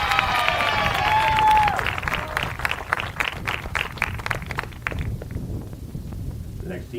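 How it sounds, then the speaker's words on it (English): A crowd at a college softball game applauding with dense, steady clapping that tapers off toward the end, a loud cheer or whistle near the start. "one more round of applause for the big dog, Lily Hansen."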